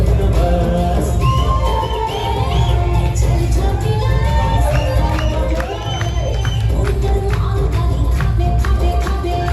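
An audience at a Chhattisgarhi film award ceremony cheers and claps loudly and steadily, a dense crowd roar with whoops and shouts throughout.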